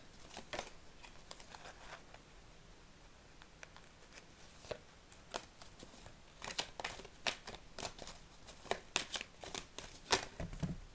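Oracle cards being shuffled from a deck, close and soft, with irregular bursts of riffling and card slaps that grow busier toward the end, alone without talk.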